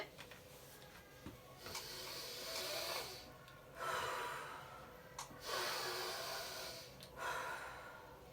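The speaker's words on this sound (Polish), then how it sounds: "wciąga powietrze nosem, nadyma brzuch i opuszcza wzdłuż ciała ręce zaciśniętymi pięściami" Deep breaths drawn in through the nose, part of a calming exercise in a children's story about feelings: three or four long, hissing nasal inhales at a steady, unhurried rhythm, close and fairly quiet.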